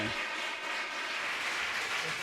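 Audience applause at a Tamil pattimandram debate: steady, dense crowd clapping sustained at even loudness for a couple of seconds, with no voices over it.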